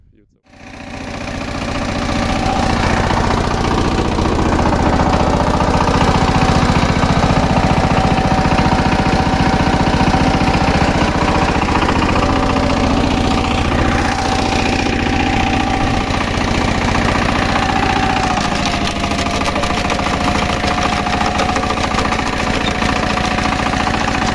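A homemade tractor engine drives an auger wood chipper shredding branches, a steady loud mechanical drone with knocking vibration that starts abruptly and runs continuously, close to the machine.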